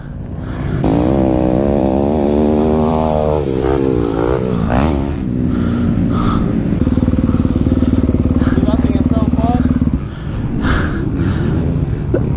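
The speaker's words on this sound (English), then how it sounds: "Damon's over there riding the bike, dude" Dirt bike riding on a motocross track at Milestone, a loud two-stroke engine revving and climbing in pitch, then holding a steady high drone close by, with people talking and exclaiming over it.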